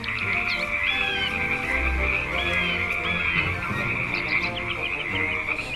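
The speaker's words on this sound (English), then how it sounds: "asked Sinukuan to punish the frog for being so noisy during the night while it was trying to sleep" A frog croaks in an animated folk tale set at night, a loud, continuous, rhythmic trilling chorus close up with no talking.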